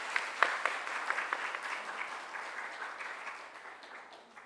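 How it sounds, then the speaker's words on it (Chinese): A church congregation at a Sunday worship service applauds together, a dense, even patter of clapping from a large room that peaks early and gradually tapers off. "我们再次拍手鼓励他们"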